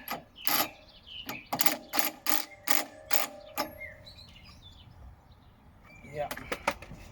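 A ratchet clicks in quick bursts tightening a BR6HS spark plug into a Kawasaki engine on an Atco Suffolk Punch mower, close and sharp, then pauses before a few final clicks.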